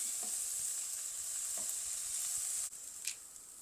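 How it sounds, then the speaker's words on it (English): Mutton curry sautéing in a pan gives a steady, even sizzle throughout, with a few soft stirring knocks and a brief dip in the frying noise near the end. "sauteing this"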